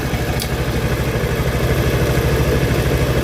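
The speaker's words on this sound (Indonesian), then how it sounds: "kalau motor udah bunyi berarti emang udah normal ya" A Honda Vario scooter engine, one with a history of lost ignition, idles steadily up close, its low mechanical drone running evenly throughout with no voices over it.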